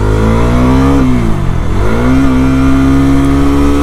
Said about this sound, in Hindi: पहला गियर देखते हैं 58 तक, 81, 100।